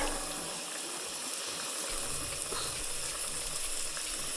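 A pot of rice water bubbles and hisses at a rolling boil, a steady close seething roar with faint pops and no talking.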